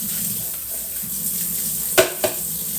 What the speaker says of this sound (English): then I rinse all the soap out